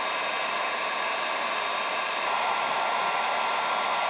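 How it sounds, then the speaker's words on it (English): A heat gun blows hot air in a steady, even hiss for several seconds, close and moderately loud, alone, while work is done on an Arctic Cat Hardcore snowmobile. "Doing some heat gun work."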